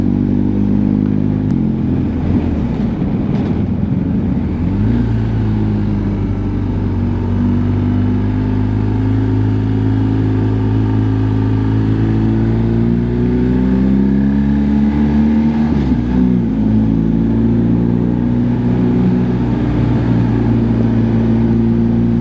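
A BMW R1200 motorcycle rides through tight switchbacks on Switzerland's Susten Pass. Its engine drones loud and close the whole time, with the pitch rising and falling as it slows for the bends and accelerates out of them.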